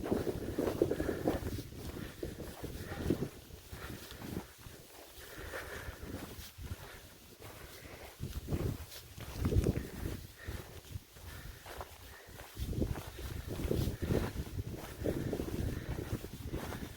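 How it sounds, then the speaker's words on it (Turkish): Gusty cold wind buffeting outdoors on a rough dirt road, rising and falling in waves over a rough low rumble, steady and fairly faint, with no voices. "Ama soğuk rüzgar var"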